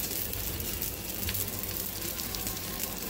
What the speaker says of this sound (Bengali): আমি এটা একটু হালকাভাবে ঘিয়ের মধ্যে ভেজে নিয়েছিলাম